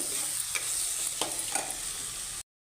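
Chopped tomatoes fry in a pan for pav bhaji, with a steady hissing sizzle, a few faint stirring scrapes, and an abrupt cutoff near the end.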